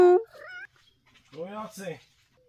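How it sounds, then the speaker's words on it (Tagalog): A domestic cat meows close by: a sharp opening cry, then a pair of drawn-out, wavering meows after a short pause. "Yung pusang panay ngiyaw."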